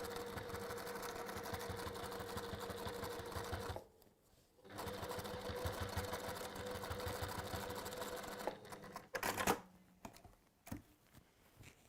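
A sewing machine stitching fabric, running in a steady fast mechanical whir with a rapid needle patter, pausing briefly, then resuming before stopping with a few clunks near the end.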